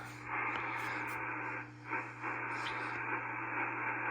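Steady hiss and hum of a Swan 700CX amateur radio transmitter carrier, with a few short dropouts and faint chirps over the constant static.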